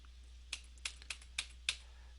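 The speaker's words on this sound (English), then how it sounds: "we can start using our arrow keys" Five separate, crisp key presses on a computer keyboard as arrow keys are tapped one at a time at an uneven pace, quiet and close with a low steady hum underneath.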